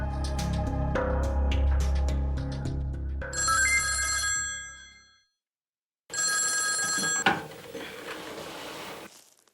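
Old-style telephone bell ringing in bursts, a clattering metallic ring that stops, pauses in silence, then starts again loudly.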